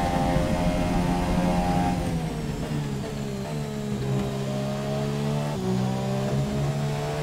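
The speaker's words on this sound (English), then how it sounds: "Don't over-rev the engine too much." An F1 car engine in F1 2017 at Monza, a loud high-pitched whine that holds, drops with a gear change and climbs again, steady and close with no talk.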